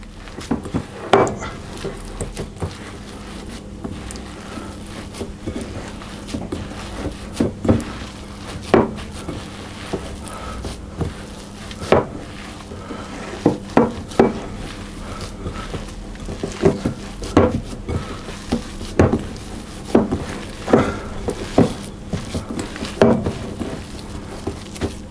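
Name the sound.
mixing almond oatmeal cookie dough in a bowl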